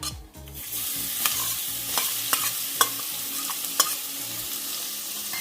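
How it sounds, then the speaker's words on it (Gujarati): Ginger, garlic and green chilli paste sautés in oil for a brinjal and potato curry, giving an even close sizzle with a few sharp spoon taps and scrapes as it is stirred. "થોડી વાર આપણે સાતળવા દઈશું તેલમાં"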